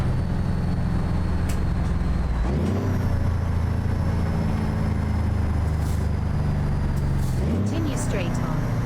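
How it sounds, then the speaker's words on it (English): American Truck Simulator heavy truck engine droning steadily, with its pitch stepping down twice as the driver downshifts, near and continuous with a faint hiss over it. "See if we can't get a few downshifts here"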